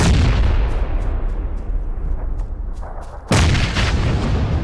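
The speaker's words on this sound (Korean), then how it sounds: "수류탄" A grenade explodes in a video game, a loud close booming burst that flares up after a stretch of ongoing noisy gunfire, then a second heavy crack near the end.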